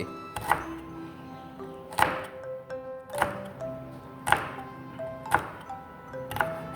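A knife chops chili peppers on a cutting board in slow, even strokes, about one sharp thunk per second, close and clear, with no talking over it.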